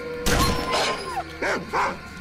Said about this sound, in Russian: Ух ты, прям целый свор этих ужасных собак.